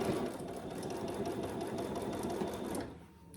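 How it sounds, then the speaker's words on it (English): A domestic sewing machine stitches a seam on a fabric clutch bag in one continuous, even run of rapid needle strokes, fairly close, before stopping abruptly near the end. "we're going to sew that together at the seam allowance in the pattern"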